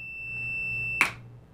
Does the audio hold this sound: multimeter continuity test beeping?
yes